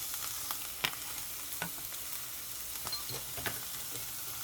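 Yellow pepper sautés with mushrooms in a hot pan, a soft continuous sizzle punctuated by light stirring scrapes and clicks, steady and moderately quiet.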